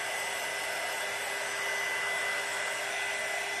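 An embossing heat tool meant for crafts blows hot air in a steady, loud, hair-dryer-like whoosh with a faint whine, continuous throughout and with no talking.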